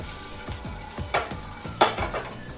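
Green chilies fry in a pan for paneer thecha, a steady sizzle broken by several sharp scrapes and clinks of a stirring spoon against the metal, close and moderately loud with no voices.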